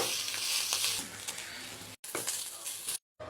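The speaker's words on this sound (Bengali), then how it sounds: "তো কুটে এখন ভাজি করব। ভাজি করে তারপর আরও আছে যেগুলো, এগুলো ভাজি করে নিব।" Taki fish with vegetables fries in oil, making a close, moderately loud sizzle with a few stirring knocks, broken by two short silent cuts.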